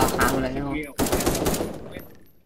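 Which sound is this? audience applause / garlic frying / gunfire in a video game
gunfire in a video game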